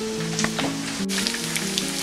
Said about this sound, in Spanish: nuestras riquísimas alitas que se están dorando, friendo